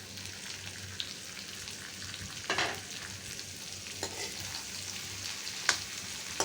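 Chicken frying in oil with dhekia fern greens over low heat, a steady close sizzle broken by a few stirring scrapes and taps of the utensil, with no talking.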